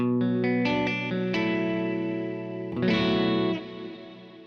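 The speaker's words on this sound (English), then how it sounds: "this is called the chorus one" Electric guitar through a Kemper Cirrus Reverb chorus patch: a run of plucked notes followed by a sustained strummed chord, shimmering and washed in reverb, played alone and close.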